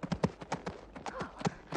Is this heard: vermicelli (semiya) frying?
no